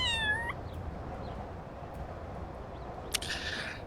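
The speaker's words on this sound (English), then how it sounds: "Cat in a ladybug hat." Cat meowing in the Little Kitty, Big City video game: one clear, bright meow at the start over a steady low background hum, followed later by a short sharp bright sound.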